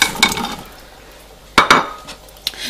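Small potatoes tipped into a pot of simmering beef and vegetable stew, a few sharp clinks and knocks of utensil against pot in quick bursts, close and fairly loud with quiet gaps between, no speech.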